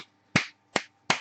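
Three sharp hand claps, spaced slightly unevenly, ring out close and crisp against near silence in a brief little round of applause.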